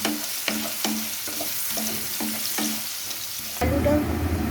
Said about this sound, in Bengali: এই আলুটাকে লাল করে ভেজে নেব।